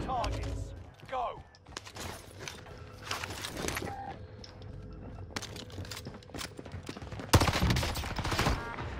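Gunshots in Call of Duty on Rebirth Island, sharp separate cracks scattered irregularly with one loud blast near the end, mixed with game effects and a voice speaking.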